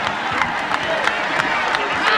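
A crowd of young future Aggies cheering the Texas A&M football team as the players sing, a continuous roar of voices and clapping with sharper bursts rising above it.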